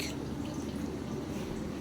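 Tap water pours steadily into a pot of native chicken tinola, a continuous close splashing fill with no talk over it.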